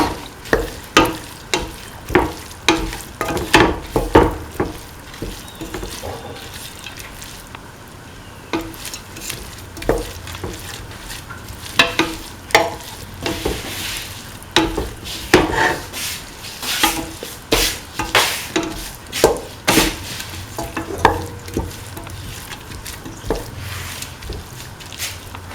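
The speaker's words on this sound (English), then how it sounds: "Thoroughly saute and mix." Vegetables sizzle and crackle in a hot pan while a utensil stirs and scrapes them in repeated strokes, fairly close and steady throughout.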